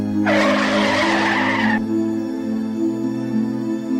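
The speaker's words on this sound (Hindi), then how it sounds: "अचानक से गाड़ी के ब्रेक लगाता है" A car brakes suddenly on a road, tires letting out a loud, sharp skid squeal that lasts about a second and a half before cutting off, leaving a low hum behind.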